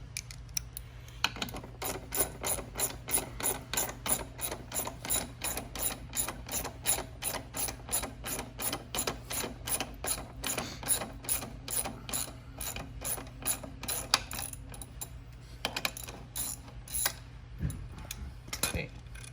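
Ratchet wrench with a 14 mm socket on an extension, removing the muffler bolts under a Venom Motorsports x22GT 250cc motorcycle: a long, steady run of close, loud ratcheting clicks with a brief pause near the end, over a low background hum.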